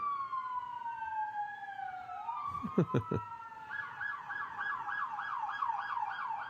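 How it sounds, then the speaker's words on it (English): Wailing sirens sweep up and down over steady background noise, with a brief burst of knocking or thumps partway through before a fast warbling siren takes over. "you get the sirens again"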